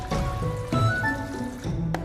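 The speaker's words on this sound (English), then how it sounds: "Then pour in enough water to cover the eggplant slices." Water is poured into a large bowl of salted eggplant slices with a little white vinegar, a close, gurgling fill with shifting liquid tones and a brief drip-like splash near the end.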